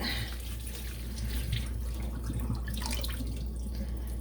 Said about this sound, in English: I'm just gonna drain out that water